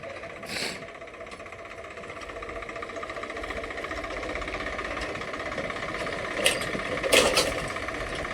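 A tractor engine drones steadily while plowing a field, a continuous rumble with mechanical clatter and a few brief sharp knocks near the end.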